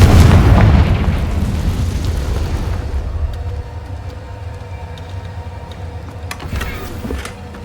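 A Confringo blasting spell explodes in Hogwarts Legacy, a loud rumbling boom up front that decays into a long low roar, with faint crackles and clinks lingering over several seconds.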